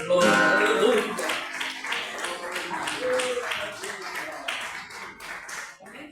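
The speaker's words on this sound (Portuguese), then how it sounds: "E as palmas do Senhor, aleluia." Church congregation clapping in rhythm during a worship service, a steady run of hand claps at a regular beat under a voice speaking and singing.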